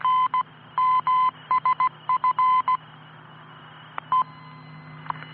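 A shortwave time and frequency station on 2,500, 5,000 and 10,000 kilohertz: a run of clipped beeping tones in quick, uneven bursts, then sparse single pips over a faint steady hiss, with no speech.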